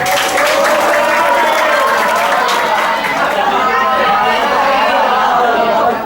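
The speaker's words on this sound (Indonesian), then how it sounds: "Teman-teman kasih tepuk tangan" Audience applause at an IT conference in Palembang, dense and steady clapping mixed with cheering and crowd chatter, loud and close for about six seconds before tapering at the end.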